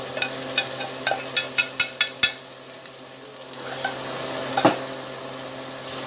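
Eggs fry in a pan with a soft steady sizzle while a utensil taps and scrapes against it in a quick series of about ten clinks, then quieter stirring with one louder knock; no talking.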